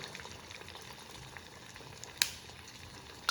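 Fasting-style ambade vada dough balls fry in hot oil, giving a steady low crackling sizzle throughout with two sharp clicks near the end and no talking.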